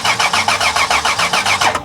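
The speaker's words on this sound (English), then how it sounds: "So we went under to try and apply power directly to the starter motor." A Chrysler Town and Country's starter motor cranks the engine with power applied directly to it, giving a loud, steady, rapid rhythmic churn of repeated compression pulses for nearly two seconds before stopping, no voices heard.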